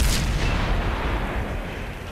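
Tank cannon shot in the game World of Tanks, a single loud booming blast with a rumbling tail that fades over two seconds.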